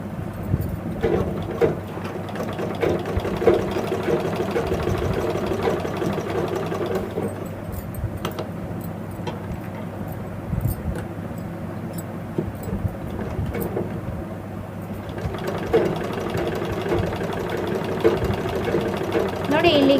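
A home sewing machine runs in bursts as it double-stitches fabric piping onto a nighty cut from an old saree, a fast mechanical chatter that stops and restarts while someone talks over it.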